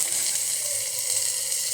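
Whole spices tempering in a small amount of hot oil for a fish curry, a steady close, bright crackling hiss that holds evenly throughout with no talk.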